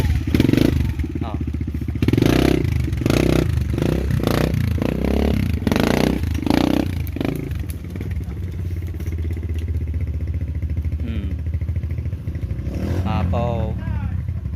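A motorcycle engine churns and revs unevenly on a muddy, rain-soaked trail, with scraping and clattering throughout and voices talking over it.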